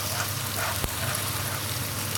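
Green garlic and regular garlic frying with browned onions in a pan for chicken palak methi salan, a steady close sizzle with one brief clink of a utensil.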